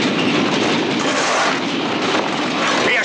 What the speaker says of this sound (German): Da, der Zug.